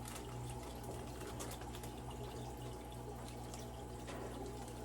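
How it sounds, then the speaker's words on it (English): Water is poured into a fish bag in an aquarium, a faint continuous trickling and splashing under a steady low hum from the tank equipment. "just add a little bit more water"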